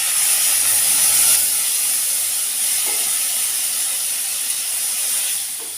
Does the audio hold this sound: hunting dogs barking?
no